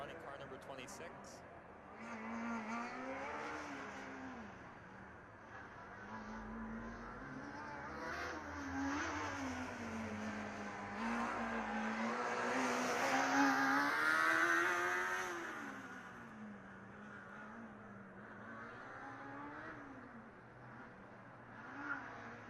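A Formula Student race car on an autocross run at Formula Student Germany 2015, its engine revving up and down through turns at moderate distance, heard steadily under continuous commentator talk.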